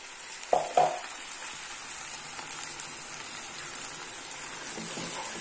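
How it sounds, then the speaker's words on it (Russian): Chicken wings in tomato sauce are stirred in a pan. A couple of sharp utensil knocks come early, then a soft, even simmering sizzle continues with no voices. "Все перемешиваю"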